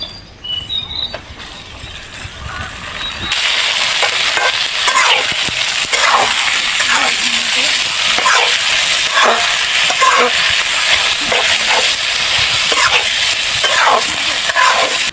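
Chopped swamp eel meat hits hot oil in a pan, bursting into a loud, continuous sizzle with scattered stirring clatter, after a quieter opening moment of small clinks.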